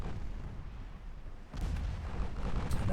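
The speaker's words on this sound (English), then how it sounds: "And that's heavy cruiser fire." Heavy cruiser guns firing in the naval video game Ultimate Admiral Dreadnoughts, a dense rumbling low boom that swells midway into a sustained roar of distant overlapping salvos.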